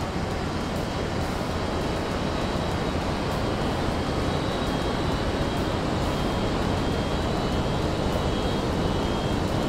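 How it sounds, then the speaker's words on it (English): A Gannet fishing drone flies outdoors, giving a loud, constant whirring drone mixed with broad wind-like rush throughout, steady and unbroken, with no talking. "The old Gannet drone guy's coming there."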